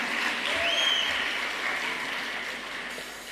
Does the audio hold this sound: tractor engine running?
no